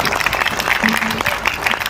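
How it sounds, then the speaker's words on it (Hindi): A brief, dense burst of audience applause at a ghazal and poetry recital, steady and fairly loud throughout, with some speech mixed in. "आपकी तालियां ही बताएंगे कि आप कितना एंजॉय कर रहे हो"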